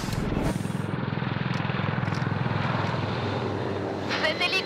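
A military assault and manoeuvre helicopter able to carry fourteen equipped commandos drones steadily, its rotor giving a continuous rhythmic thumping at close range.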